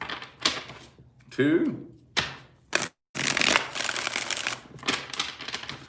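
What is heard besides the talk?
tarot cards being shuffled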